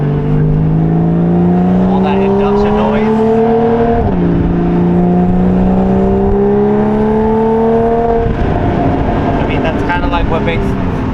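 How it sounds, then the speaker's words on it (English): Porsche 981 Cayman S engine pulling hard under acceleration, a loud rising drone with its intake breathing close behind the cabin, one gear change midway and a second near the end, with talk over it. "you can totally hear the intake sucking because it's like right behind your head"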